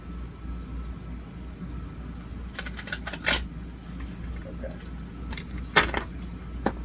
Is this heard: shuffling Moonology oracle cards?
yes